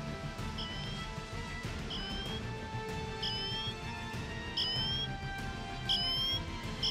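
Apple Watch Ultra siren sounding in a forest, heard as a regular series of short rising high-pitched chirps about once a second over a busy low background rumble, moderately distant.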